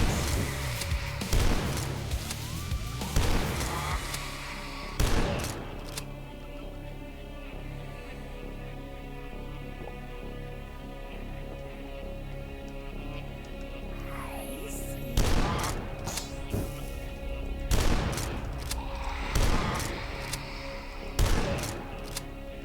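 Gunfire in a video game fired indoors: repeated sharp bursts of shots stand out in several loud clusters over a steady hum of game music and ambience, with no talking.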